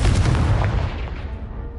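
A Confringo blasting spell goes off in the Hogwarts Legacy video game: one loud, close explosive boom that fades away into a rumbling tail.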